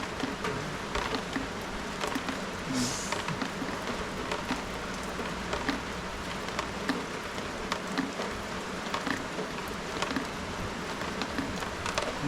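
Steady rain patters outdoors with a dense, even hiss and scattered drips, continuing unbroken throughout with no voices.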